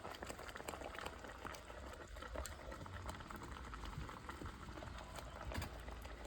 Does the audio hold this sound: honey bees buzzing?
no